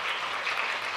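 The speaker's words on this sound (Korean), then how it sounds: "잠깐 일어나시면 우리 환영의 박수 드리겠습니다." Applause from a Korean church congregation during a Sunday worship service in Jakarta, welcoming a visiting family. It is a steady, dense patter of many hands, fairly soft and continuous through the whole second with no talk over it.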